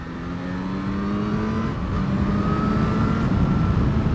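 A motorcycle engine pulling steadily while riding, its pitch climbing through the gears under heavy wind rush, loud and close throughout with no talk.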